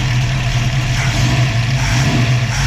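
A carbureted engine with an Autolite 4100 carburetor and A/C idle-up solenoid idles at about 600 rpm, giving a steady, close low rumble with an even hum and no revving.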